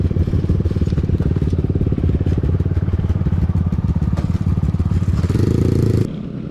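A Kawasaki Z125 Pro motorcycle ridden around a track at a track day, its engine a loud, steady, buzzing drone with a rising rev near the end before it cuts down sharply.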